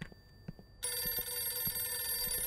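A telephone rings in the Russian video game Bright Lights of Svetlov, a loud, steady electronic ring that starts abruptly after a brief quiet moment and continues without a break.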